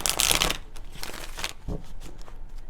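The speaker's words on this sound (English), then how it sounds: "Three more shuffles." Tarot cards being shuffled by hand in a reading session, a dense riffling burst at the start followed by softer intermittent card rustles, close and fairly quiet.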